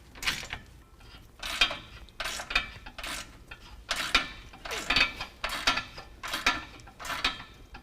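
Torque wrench tightening the bolts of a Borla S-Type exhaust system on a 2017 Ford F-150, with about eight rhythmic ratcheting bursts, close and fairly loud, each separated by brief pauses.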